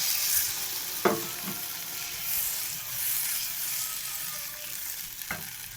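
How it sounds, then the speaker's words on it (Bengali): Water poured into a pan of simmering fish curry sets off a steady, close sizzle and bubbling hiss, with a couple of brief clinks of a utensil against the pan and no talking. "তো আমি পরিমাণ মতো জল দিয়ে দিলাম"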